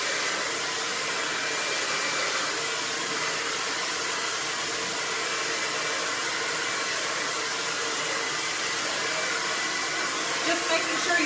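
A blow dryer runs continuously while drying hair, a steady close whooshing hiss with a faint voice underneath.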